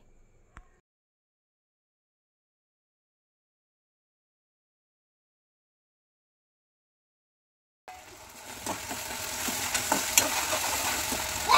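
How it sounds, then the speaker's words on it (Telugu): After a brief knock and a long silence, a sauce and rice flour mixture hits frying onions and capsicum, bringing a rising sizzle with scraping stir strokes and clinks that grows louder toward the end. "నెక్స్ట్ ఇందులోకి సాసుల మిశ్రమాన్ని బియ్య పిండి మిశ్రమాన్ని వేసి కలపాలి"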